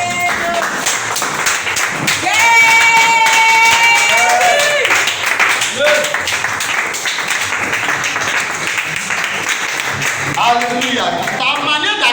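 A church congregation claps and cheers in acclamation, a loud, sustained wash of applause with raised voices and sung or shouted tones rising through it.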